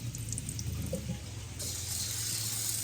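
Tap water runs steadily into the pot of an Aroma rice cooker in a home kitchen, a continuous close splashing flow with a faint hum beneath.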